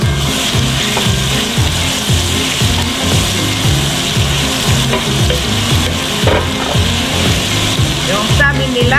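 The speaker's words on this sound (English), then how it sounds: "Masarap ang garlic na prito." Garlic and ginger fry in a pot with a loud, steady close-up sizzle, while a utensil scrapes and stirs in a continuous rhythmic back-and-forth, with a voice faintly present underneath.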